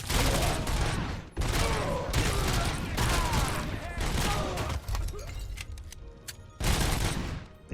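Sustained automatic gunfire in RoboCop: Rogue City, loud volleys repeating in bursts with brief gaps, close and dense, with a voice heard over parts of the shooting.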